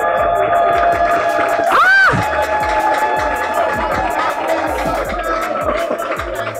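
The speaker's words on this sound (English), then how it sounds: "A round of applause for Mr. TG Omori!" An audience at a film institute hangout claps and cheers to welcome a guest: dense, steady applause with whoops, and a rising whistle-like cry near the start.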